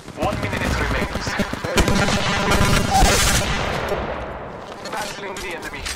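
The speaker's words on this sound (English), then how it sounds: "Making contact here. Opening fire." Rapid automatic gunfire in the Apex Legends Mobile battle royale game, loud sustained bursts packed together over layered game effects, with a faint voice in the mix.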